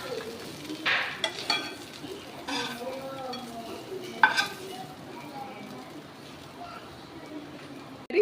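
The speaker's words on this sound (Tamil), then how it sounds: "இதில் லைட்டாக பரட்டி எடுத்துக்கோங்க" Stuffed idli tossed and lightly fried in a pan makes a low sizzle with several scraping stirs, while a person speaks over it.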